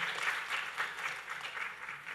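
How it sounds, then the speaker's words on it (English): Quiet applause from the audience at a mental health forum, honouring the panel members: a soft, steady wash of clapping for a couple of seconds, fairly distant and low in level, with no voices. "Another round of applause for members of our panel"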